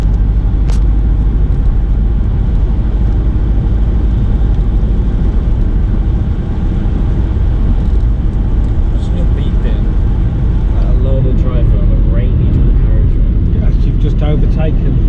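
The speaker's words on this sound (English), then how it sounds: "The Jag's driving too fast for these weather conditions" A Jaguar car driving fast in wet weather, heard as a loud, steady road and engine roar with tyre noise while a person talks over it.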